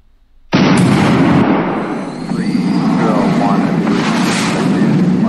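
GBU guided bombs striking targets in the naval warfare game CMANO, a sudden loud blast that swells into a long rumbling roar with crackling debris, sustained and close throughout.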